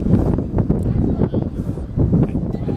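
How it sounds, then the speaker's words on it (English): Wind buffets the microphone at an outdoor baseball field in Elgin, Illinois during a championship game, a steady low rumble with gusty swells throughout. "Very windy out here at Elgin."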